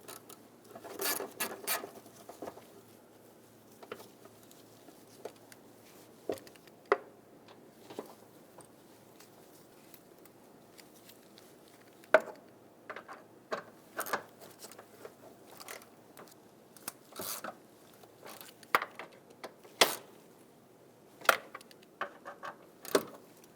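Quiet metallic clicks and ratcheting scrapes from a 10mm wrench snugging thermostat housing bolts on a 2000-2007 Ford Taurus 3.0L V6, arriving as scattered short bursts with pauses between.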